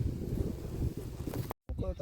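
Wind gusts across an open farm field where a thresher is at work, producing a steady, rough rumble that buffets the microphone, with a brief dropout near the end.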